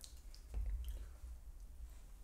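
Faint, wet chewing of sushi during a 300-piece sushi eating challenge: soft squishy mouth sounds with a denser burst of chewing near the middle, close to the microphone and without talk.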